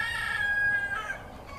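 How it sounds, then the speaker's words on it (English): A single rooster crow, fairly faint and drawn out, with no other sounds around it. "a cocky rooster crowed"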